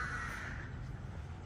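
Crows caw faintly in the distance over a soft wash of city ambience in central Bangkok, a single drawn-out call fading under steady background hum.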